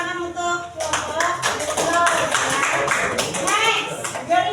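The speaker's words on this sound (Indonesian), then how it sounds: "Oke, tepuk tangan untuk kelompok." A group presenting at an academic coaching session gets a round of applause, hand claps and taps mixed with overlapping chatter and children's voices, fairly loud and close throughout.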